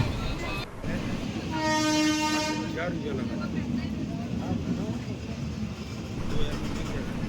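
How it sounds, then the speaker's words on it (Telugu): The Ratnachal SuperFast Express pulls out of Rajahmundry station. A horn blast of a second or so is followed by a steady rumble of carriages rolling away, with talk partly over it. "మన ట్రైన్ వచ్చింది, ఆగింది, వెళ్ళిపోతుంది."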